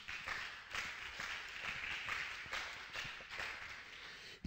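Church congregation clapping together in a steady, dense wash of hand claps with rhythmic accents, sustained throughout at moderate loudness without talk.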